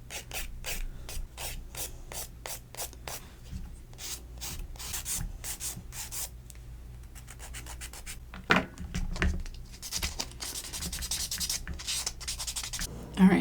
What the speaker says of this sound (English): I'm gonna try and use my file and kind of fade that in